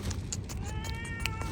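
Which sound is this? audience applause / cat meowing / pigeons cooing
cat meowing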